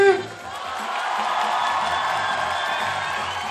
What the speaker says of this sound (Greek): Και ένα μεγάλο χειροκρότημα για τον Μάικη Τσι!